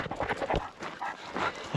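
Big dogs bark and yip nearby on a walk, a few short rough bursts in quick succession, moderately loud, with no talk over them.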